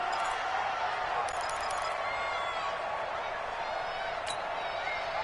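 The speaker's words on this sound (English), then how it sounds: "this crowd urging on their defense. They're up and making noise" A stadium crowd in a PS4 football video game roars steadily for the defense on a third down, a dense sustained wall of cheering and noise with faint higher whistles, continuous and loud throughout.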